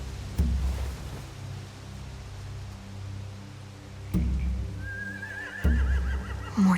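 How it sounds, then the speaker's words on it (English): A horse whinnies in The Walking Dead: The Final Season, a rising, quavering neigh near the end, after a few dull thuds and hoof-like knocks over a low ambient bed near a beach. "They have horses."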